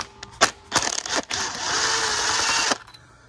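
A power tool with a Torx bit spins out the last bolt on an Audi S3 8P during a cam follower job, a few short bursts and clatters giving way to a steady whir of about a second that stops abruptly, close up.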